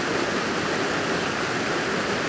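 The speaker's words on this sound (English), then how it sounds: "the flow of the waterfall's coming down on the left hand side" The Lurg Burn waterfall pours down with a steady, even rushing hiss that stays close and constant without a break.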